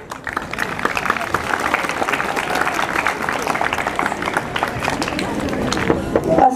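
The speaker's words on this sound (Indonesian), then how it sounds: "tepuk tangan" Audience applause and cheering at a school drama performance: dense, continuous clapping from a crowd, with voices calling out underneath, heard from within the room at steady loudness.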